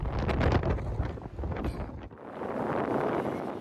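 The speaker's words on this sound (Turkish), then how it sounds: "Kent merkezinde vatandaşlar şiddetli rüzgar nedeniyle yürümekte güçlük çekti." Loud, blustery wind of a strong southwesterly lodos storm in a Marmara region city centre, buffeting the microphone in heavy rumbling gusts, briefly easing then roaring again.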